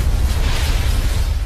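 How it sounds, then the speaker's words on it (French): A jet engine on a Korean Air DC-10 explodes at cruising altitude in a documentary reconstruction, a loud sustained roaring blast of broadband noise with heavy low rumble throughout. "L'explosion a lieu à 15h16"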